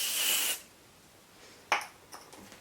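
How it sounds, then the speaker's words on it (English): A hair spray can hisses in one loud, steady burst lasting about half a second while beachy waves are styled. A few faint clicks and light handling noises follow in a quiet room. "So just going to spray."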